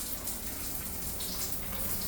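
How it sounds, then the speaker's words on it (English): Water sprays and leaks from a faulty shower head in a hotel bathroom in Baler, a steady close hiss of running water that holds evenly throughout with no talking. "oh gee, the shower head is leaking all over the place."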